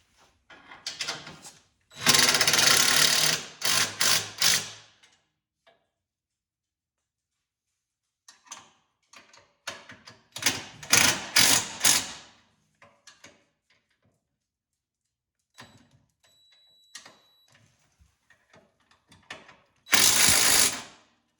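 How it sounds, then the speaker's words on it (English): Ratchet tightening four bolts on a snow plow mount for a Polaris RZR, heard as several bursts of rapid clicking separated by pauses, with a final burst near the end. "we're going to go ahead and just be tightening these 4 down"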